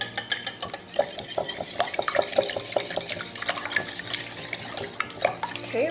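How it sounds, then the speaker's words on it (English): Eggs whisked briskly in a bowl for a breakfast muffin batter, a fast run of close, clattering utensil strikes against the bowl with a steady rhythm, louder at the start, with no talking. "we'll whisk the eggs"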